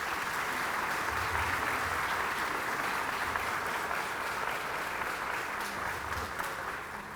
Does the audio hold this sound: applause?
yes